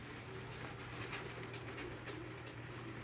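A LEGO City toy train runs along a curved plastic track, giving a continuous low rumbling hum with faint clicking, quiet and steady with no speech.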